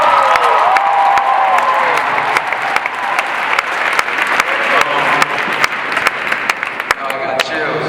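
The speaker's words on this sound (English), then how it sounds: "we gotta give her a round of applause" A live crowd at an MLK event applauds and cheers loudly after a performance, with continuous clapping, scattered sharp individual claps and raised voices blending into a full, roaring ovation.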